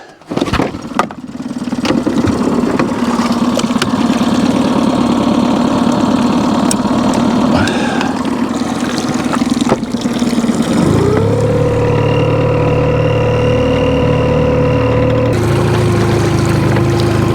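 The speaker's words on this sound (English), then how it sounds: "We'll do it with the trolling motor." Boat motor running steadily on the Cowlitz River, a constant drone that shifts to a higher, smoother pitch partway through, close and loud with no talk.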